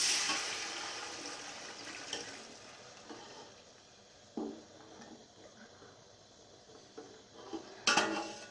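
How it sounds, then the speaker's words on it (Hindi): Water pours into a cooking pot of chana pulao in a village kitchen, starting with a rushing splash and easing into a softer trickle and sizzle, with occasional clinks of the pot. The sound is moderately near and fairly quiet. "डालेंगे पानी।"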